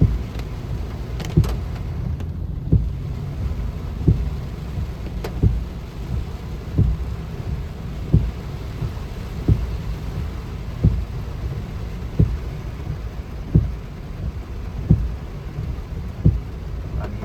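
Heavy rain pours steadily during a morning commute in Samut Prakan, Thailand, a dense constant hiss punctuated by regular sharp knocks roughly every second or so, with no voices.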